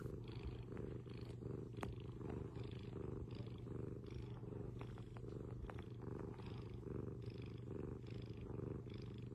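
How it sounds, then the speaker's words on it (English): A cat purrs up close in a steady, rhythmic low rumble that pulses with each breath and continues without a break, alone with no talking. "she's happy, she's content, she's purring"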